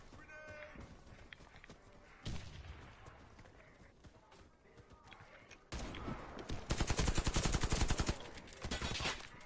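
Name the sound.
weapon gunfire in the video game Warface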